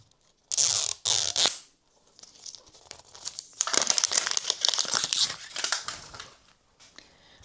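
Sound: crinkling plastic wrapper of a surprise package being opened

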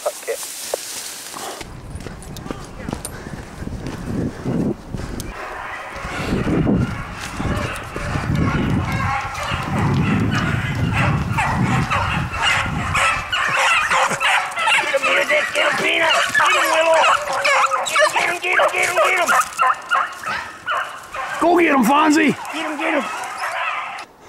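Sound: hounds barking while chasing a hare in a swamp

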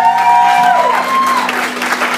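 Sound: wedding guests applauding

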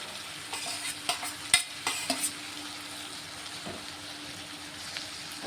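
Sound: stirring tomatoes and chili powder into gourd curry

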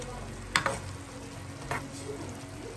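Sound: garlic sautéing in a pan

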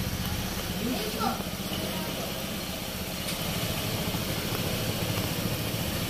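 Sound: Honda PCX 160 scooter engine running

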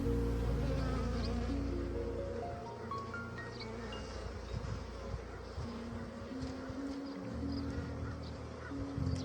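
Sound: honeybee swarm buzzing at an apiary

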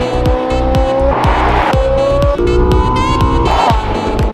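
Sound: black Ferrari 458 Spider driving

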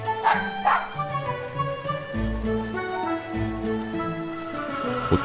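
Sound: dog barking in video game Dot Horror Story 2

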